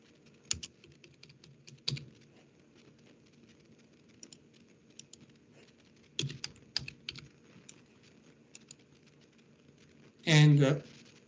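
Typing on a computer keyboard during a Linux class, close clicks arriving in short clustered bursts separated by quiet gaps, with a brief louder voice near the end.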